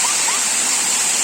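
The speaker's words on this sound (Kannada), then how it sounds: "ನೋಡಿ ಫಾಲ್ಸ್ ನೋಡಿ ಎಷ್ಟು ಚೆನ್ನಾಗಿದೆ ಅಲ್ಲ ಫ್ರೆಂಡ್ಸ್" Steady, dense rush of water from Valachil Falls, a broad continuous roar holding even and fairly loud from start to finish with no voices.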